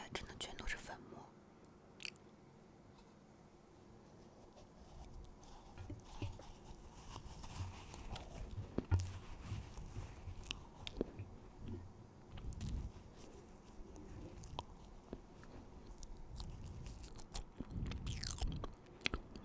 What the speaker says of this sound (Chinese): 就是在吃奶粉